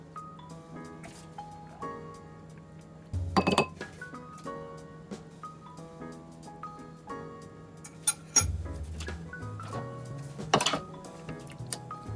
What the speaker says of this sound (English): You just put all the ingredients into a bowl, mix it up,